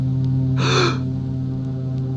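A single loud gasping intake of breath from Frankenstein's monster in an audio drama, a sharp rasping burst lasting about half a second over a steady low hum, then fading back to the drone.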